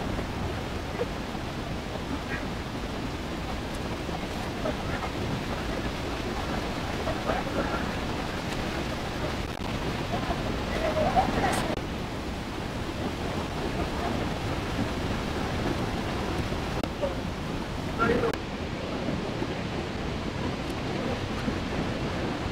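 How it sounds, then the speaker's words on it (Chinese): A waterfall in the Grand Canyon of the Yellowstone makes a steady, broad rushing roar heard from a distance, mixed with wind buffeting the microphone throughout. "多美的瀑布啊！"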